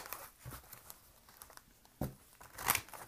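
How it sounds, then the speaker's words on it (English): Soft papery rustling and flicking, with a few sharper crisp snaps near the end, as angel cards are shuffled close by. "let me go ahead and shuffle some angel cards for you"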